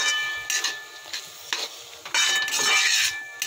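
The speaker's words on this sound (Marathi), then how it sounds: "चांगले फ्राय होतपर्यंत आपण तेलामध्ये फ्राय होऊ देऊ, कमी आचवर" Modak frying in oil on low heat, with a steady close sizzle broken by scraping and clinking of a spoon stirring in the pan, with no voices.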